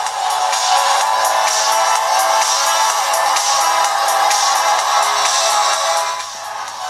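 Played at full 100% volume, a video blares from a Cubot P6 phone loudspeaker, loud and slightly harsh, a thin, bright, continuous wash of music with regular pulses running the whole length.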